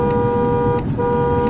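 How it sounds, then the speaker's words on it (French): Car horns honking in a wedding convoy on a rainy day, one loud, sustained, close blare with a brief dip partway through, and no talking. "On est tous en train de klaxonner, on a tous nos feux."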